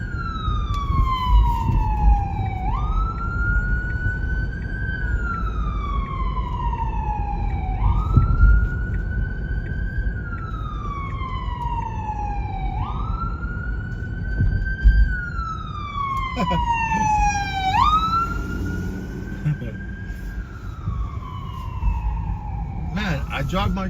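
A New York City emergency siren wails in slow, repeating up-and-down sweeps over dense traffic rumble, loud and near, with faint voices talking underneath.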